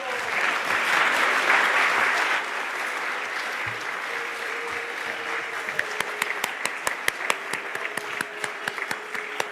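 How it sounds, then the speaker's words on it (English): Church congregation at an all-age service breaking into applause, a dense burst of clapping that thins into scattered individual claps toward the end, heard without talk. "Round of applause."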